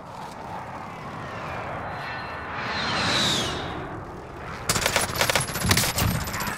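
Airstrike in Call of Duty Warzone: a jet roars overhead, swelling and passing, then a rapid barrage of gunfire and impacts bursts in, loud and dense, for the last couple of seconds.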